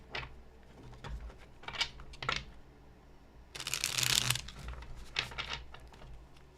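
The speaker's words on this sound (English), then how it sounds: "Last shuffle." Tarot cards are shuffled close by in soft irregular riffles and flicks, building to a denser rushing riffle midway, then tapering into scattered light taps, quiet overall.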